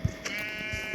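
Sheep in the Minecraft video game give short synthetic bleats, a few brief calls scattered across a steady electronic hum, with no talking.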